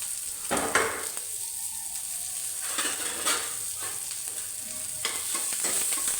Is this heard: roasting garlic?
yes